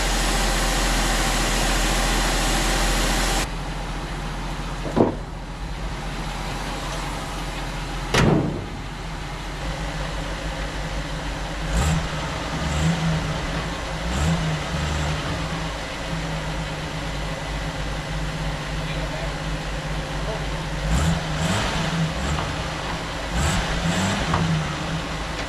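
A 1975 Jeep CJ5 engine runs steadily with a loud, continuous low rumble after cranking, broken by a few sharp clanks and knocks close by.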